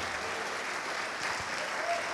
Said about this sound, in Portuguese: vamos dar uma salva de palmas para o nosso Deus